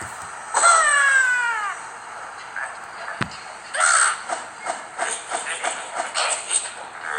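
A bird character in an Angry Birds-style video game squawks near the start, then a sharp crack is followed by a string of short rustling, whooshing bursts that come at a quick, uneven pace.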